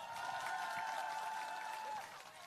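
Audience at a Korean political talk show in Ulsan claps on request, a sustained, moderate wash of applause with a steady tone beneath it that dips near the end.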